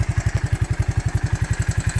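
A Honda 185s engine idling with a fast, even, thumping pulse, close and loud and steady throughout, with no voices.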